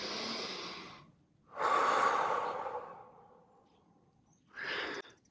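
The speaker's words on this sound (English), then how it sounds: "take a deep breath." Deep audible breaths during a restorative aerial yoga session on a suspended air swing: a long inhale and exhale, a quiet pause, then a shorter final breath, close and clear with no talking.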